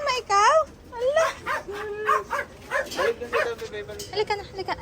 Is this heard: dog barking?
yes